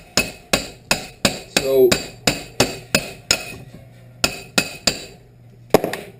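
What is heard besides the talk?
hammering lug studs in and out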